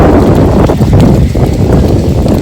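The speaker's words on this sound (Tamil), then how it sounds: "நல்லா செம்ம காற்று அடிக்குது." Strong wind blows across an outdoor spot near a temple as rain begins, a loud, steady roar buffeting the microphone with no voices.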